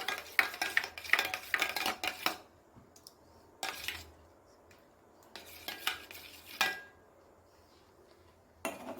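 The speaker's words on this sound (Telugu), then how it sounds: "తర్వాత కర్డ్ని తీసుకొని బాగా విస్క్ చేయాలి." Curd being whisked in a bowl for ragi malt, utensil scraping and clinking against the dish in a few bursts separated by short quiet gaps, close and moderately loud.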